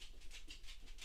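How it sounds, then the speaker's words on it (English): A dog named Herschel panting as it enters a room, quick rhythmic breathy huffs repeating about six times in a second, soft and fairly distant. "And my dog just came in."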